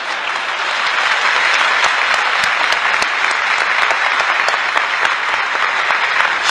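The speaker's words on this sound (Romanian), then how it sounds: "Să aplaudați." Sustained applause from a large audience at a Romanian lecture, dense continuous clapping that stays loud and steady throughout without letting up.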